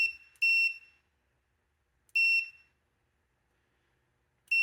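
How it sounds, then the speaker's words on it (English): A multimeter's continuity buzzer on a switch from a DeWalt reciprocating saw sounds three sharp, shrill beeps, each a fraction of a second long, separated by near silence. "if there's any continuity, it should turn the buzzer on"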